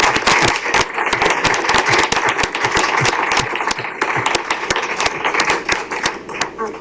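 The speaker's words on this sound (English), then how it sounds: "Let's give them a round of applause." A room full of people applauds a girls' flag football team at a county board of commissioners meeting, giving a loud, dense burst of clapping that carries on steadily without a break.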